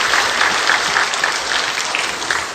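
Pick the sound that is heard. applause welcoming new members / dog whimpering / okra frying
applause welcoming new members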